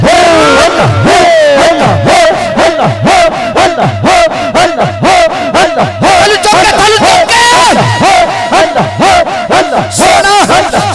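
A large crowd loudly chants dhikr in unison at a Sufi gathering, a rhythmic, pulsing repetition of voices that is dense, close and sustained throughout.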